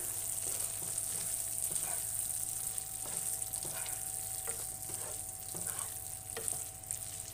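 Chilli soya chunks fry in a pan with a steady bright sizzle, while a spoon stirs and scrapes the pan in irregular strokes every second or so, close up, with no talking.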